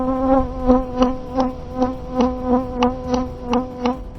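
A bee attacks a doorbell camera up close, a loud continuous buzz that swells and dips in quick regular pulses as it strikes the device again and again.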